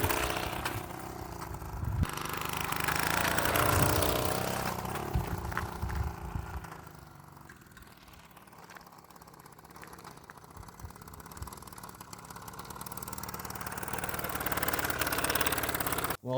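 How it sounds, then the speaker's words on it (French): A Solex 1400 moped engine runs with a rough, uneven putter that swells and fades in loudness over about sixteen seconds, without speech. "Ça, la puissance moteur."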